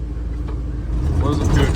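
Rumbling engine of an old big block Chevy while driving, with a shuddering clutch; a steady low drone that swells slightly louder toward the end, heard from inside the vehicle.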